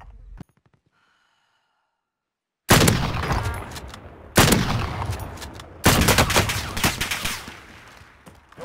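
Gunfire in Call of Duty, three loud sustained bursts of shooting after a short near-silent stretch, each burst rattling on for over a second.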